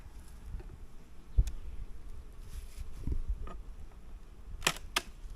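Honeybees swarm inside an opened hive under inspection, a steady low buzzing with a few sharp knocks and clicks from handling the frames, moderately faint and close.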